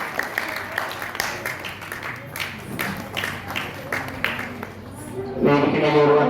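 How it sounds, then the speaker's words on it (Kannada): Crowd applause honoring a student at an anniversary prize ceremony, steady clapping running along under a speaking voice, with talk becoming more prominent toward the end. "ಈ ವಿದ್ಯಾರ್ಥಿಗೆ ಜೋರಾದ ಚಪ್ಪಾಳೆ ಮೂಲಕ ಗೌರವಿಸಬೇಕಾಗಿ ವಿನಂತಿ"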